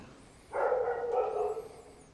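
A single dog barks once in a sustained, drawn-out cry lasting about a second, fairly close and clear, with quiet surroundings before and after.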